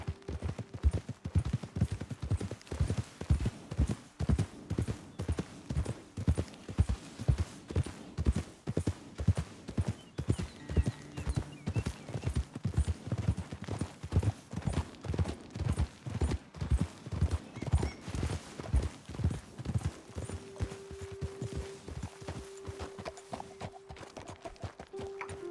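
Horse hooves clip-clop at a steady riding rhythm in the video game Red Dead Redemption 2, loud and close for about twenty seconds, with faint gunfire-like pops and a brief neigh mixed in before the pace slows to a halt.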